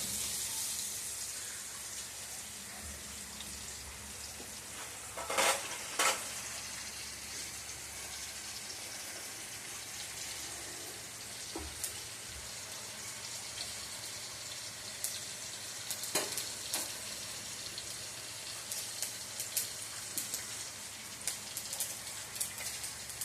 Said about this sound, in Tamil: கொஞ்சமாக எண்ணெய் ஊற்றிக்கலாம். கடுகு தாளிச்சோம்.